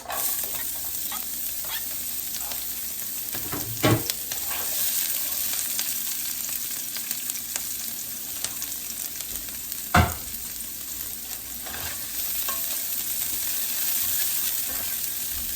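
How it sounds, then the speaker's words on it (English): Onions sautéing in oil in a pan, a steady broadband sizzle running throughout, with a couple of sharp stirring scrapes near the start and middle. "Gonna put a little bit more oil and saute the onions."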